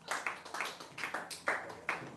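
Scattered clapping from a small audience at a live stand-up comedy show in Toronto, in uneven rhythmic bursts, fairly faint and thin, with no talking over it.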